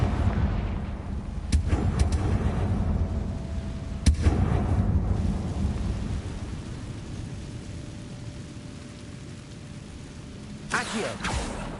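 Confringo blasting spells from Hogwarts Legacy, several sharp explosive bursts at irregular intervals over a steady rumbling background, with one cluster of blasts near the end.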